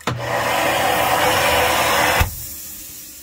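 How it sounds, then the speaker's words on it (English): A central vacuum cleaner in a 2018 Newmar London Aire RV switches on with a thump, whirs loudly and steadily for about two seconds, then cuts off abruptly. "it does have a central vacuum cleaner on it"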